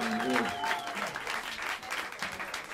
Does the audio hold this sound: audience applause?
yes